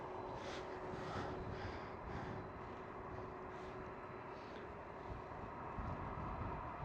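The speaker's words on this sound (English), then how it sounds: "KLM Cargo 747." A KLM Cargo Boeing 747 at Amsterdam Schiphol gives a faint, distant engine rumble with a steady tonal hum and soft swelling gusts, quiet throughout.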